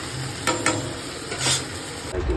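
Okra and potatoes frying in a pan, with a steady sizzle and a few scraping stirs of a utensil, close and fairly loud with no talking.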